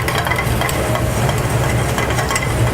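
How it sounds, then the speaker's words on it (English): Garlic is stirred into softened Vidalia onions in a hot pan for mac and cheese, giving a steady close sizzle with scraping stir noises throughout and no talking. "Now we're going to add a little bit of garlic and still building that flavor for the macaroni"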